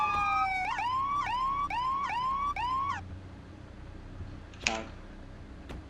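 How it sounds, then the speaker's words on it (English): A police siren wails in rapid repeating yelps for about three seconds, then cuts off, leaving road noise and a brief sharp burst of sound. "Cut the sirens."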